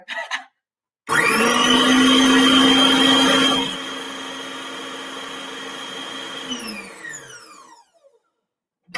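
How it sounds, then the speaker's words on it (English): Electric whisk mixing a bowl with lemon juice, a loud steady motor whine starting abruptly, dropping in pitch partway, then winding down and stopping; close and alone without talk. "I'm just gonna whisk that up. It's gonna make a bit of noise"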